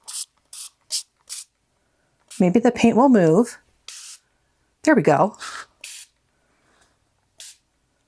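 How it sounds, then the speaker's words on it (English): A spray bottle mists water onto a watercolor painting of a birthday balloon, giving several short, crisp hissing bursts close by. A person speaks between the sprays. "I'm going to do another spray."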